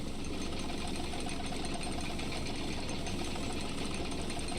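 A machine hums and rattles continuously in The Stanley Parable video game, a steady mechanical drone with a fast vibrating buzz, loud and unchanging throughout with no voices.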